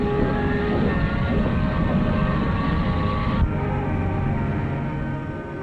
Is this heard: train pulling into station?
yes